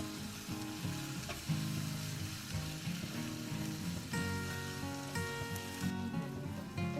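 Masala with two tablespoons of coriander powder fries in oil for a Kerala-style mutton mappas, a constant close sizzle with bubbling crackle and steady stirring and scraping throughout. No one speaks.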